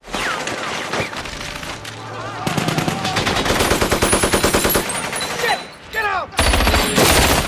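Machine gun fire in a realistic war movie battle scene: long, dense rattling bursts of automatic gunfire, loud and close, with booms and cracks mixed in and brief gaps between volleys.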